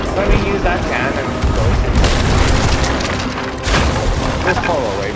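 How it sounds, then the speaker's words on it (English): Ship cannons boom repeatedly in the pirate video game Sea of Thieves, loud dense blasts and cracks filling the scene while players talk over the gunfire. "use that cannon."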